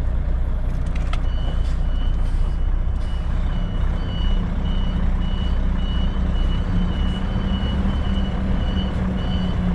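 A Volvo FM 500 truck reverses, its steady electronic reversing beeps repeating over a low, continuous diesel engine rumble with no talk.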